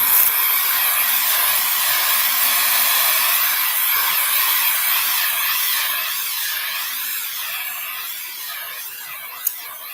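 A hair dryer blows steadily and loud, a constant close-up hiss drying paint on a craft project before antiquing gel goes on, tapering slightly toward the end.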